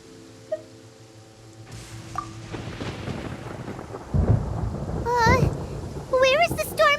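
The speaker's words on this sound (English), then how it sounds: "Paimon hears thunder!" Thunder rumbles through a rainstorm in the video game Genshin Impact, a low roll building over several seconds with heavy rain and sharp electronic chirps from the game, while a character's voice speaks over it.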